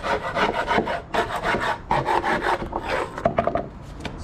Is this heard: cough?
no